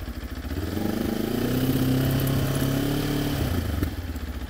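A Benelli TRK 702 motorcycle engine runs close by and is gently throttled up, giving a steady, rumbling tone that rises slightly in pitch and then eases back, with no talking over it.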